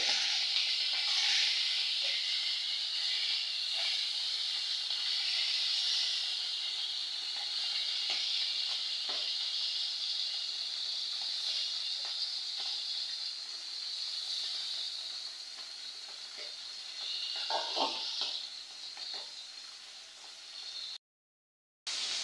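A vegetable curry of cauliflower, beans and potato frying in a pan, giving a steady loud sizzle with occasional stirring scrapes and clinks, continuous for over twenty seconds with a brief dropout near the end; no talking.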